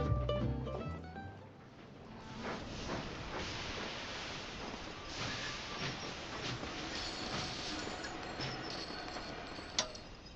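A train running in the video game Sid Meier's Railroads, a faint steady rolling clatter of wheels with ticking rail joints and occasional metallic squeals, continuous and quiet.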